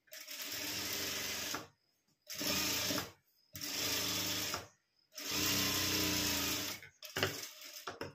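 A sewing machine stitches a cross strip on a lined blouse in four long runs, a close, loud, rapid whirring that stops and restarts with short pauses between bursts.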